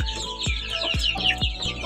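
Kuchin breed chickens in a chicken coop cluck and chatter close by in overlapping calls, with several deeper low thumps recurring at roughly half-second intervals.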